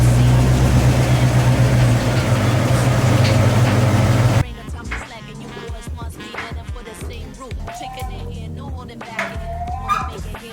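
A Nissan 350z with a leaking radiator runs as it backs up about a foot, its engine a loud, steady low rumble for several seconds before it drops away to quieter background sound.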